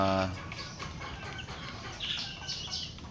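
Backyard chickens clucking near their laying nests outdoors, a few soft close clucks and chirps over a steady background hum.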